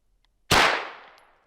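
A single sharp shot from an MK-47 rifle cracks close and loud, followed by a quickly fading echo.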